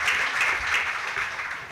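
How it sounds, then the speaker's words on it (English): An audience at a national cannabis symposium claps in a steady, moderately loud burst of applause lasting under two seconds. "give him a round of applause, ladies and gentlemen"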